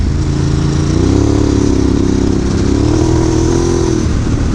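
A Ducati Desert X Rally motorcycle engine hums steadily while riding on and off road in Australia, loud and close with a smooth continuous drone and slight rises in pitch as it accelerates.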